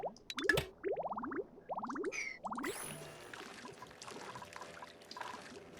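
Water pours in with rising, bubbling glugs in quick succession, then settles into a steady gurgling trickle, crisp and clearly synthetic, from the game Oxygen Not Included.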